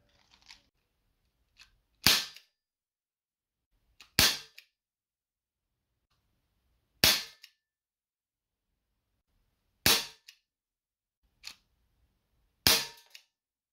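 Shots from a Colt Python 6 inch airsoft revolver firing 0.25 g BBs: five sharp, loud cracks spaced a few seconds apart, with faint clicks of handling between them and otherwise quiet.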